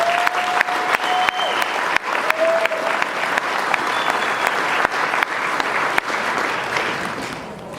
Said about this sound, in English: Round of applause for you guys again.